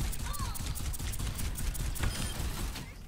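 Mercy's blaster fires in the Overwatch 2 video game, a rapid, even stream of sharp shots with no pauses, dense and fairly loud over faint mechanical game sounds.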